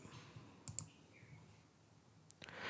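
Computer mouse clicks while creating a trigger in a PayKickstart web app: a quiet pair of sharp clicks, then another soft click later, set against faint room hiss.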